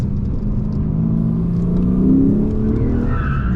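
Lexus RC F Platinum 5.0 V8 revving steadily with traction control off as the heavy car drifts, a loud close engine drone rising slightly in pitch midway, with a faint tire squeal toward the end.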